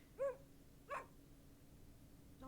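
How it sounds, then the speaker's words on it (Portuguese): A dog in the video game The Excavation of Hob's Barrow gives two short barks and yips, moderately close over quiet ambience, with another faint yelp starting at the end. "Oi, cachorrinho."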